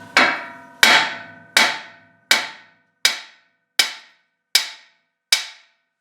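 A hammer strikes the steering arm of a Jeep JK to free the ball joint. Eight sharp metallic blows land at an even, unhurried rhythm, each one ringing briefly before fading, close and loud with no talking.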